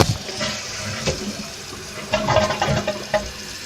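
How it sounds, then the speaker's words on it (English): A 2017 Kohler Wellworth toilet tank refills after a flush, with water splashing and gurgling close by in uneven bursts that rise and fall over a few seconds. "Looks like the tank's filling up."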